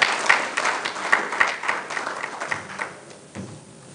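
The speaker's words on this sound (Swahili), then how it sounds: "Makofi mengi kwa Mr. Msuya." Applause from a professionals' diversity conference audience rises as a ragged, moderately loud spread of hand claps, sharp individual smacks standing out before the clapping thins and fades near the end.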